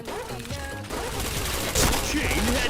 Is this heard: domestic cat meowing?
no